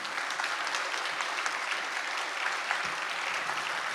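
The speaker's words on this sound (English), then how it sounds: "Please, a round of applause for both of them again." An audience at a city municipal forum applauds steadily. The dense clapping is even and sustained and fills the room for the whole stretch, with no voices standing out above it.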